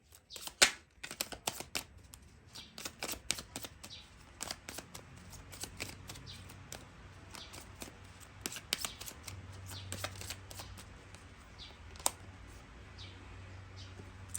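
Mini tarot card deck being shuffled by hand, a steady run of soft papery riffles and flicks, fairly faint and close, with no talking.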